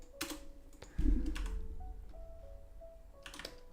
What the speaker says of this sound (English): it looks like I'm typing